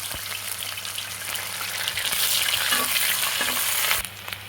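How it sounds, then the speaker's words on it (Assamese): Chopped onions sizzle and fry in hot oil for a chicken curry, a steady dense crackle with occasional stirring clicks that builds louder midway and drops off near the end. "পিঁয়াজখিনি অলৰেডি ভাজা হৈ গৈছে।"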